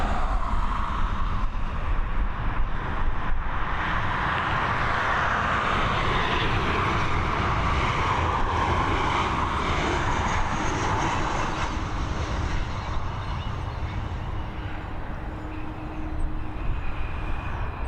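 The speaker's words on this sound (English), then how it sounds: "we've got this Ryanair Boeing 737 coming in after a 30-minute flight" Ryanair Boeing 737 landing at Dublin Airport after a short flight from Liverpool, a loud, steady jet engine roar and broadband rush filling the whole stretch with little change, no voices present.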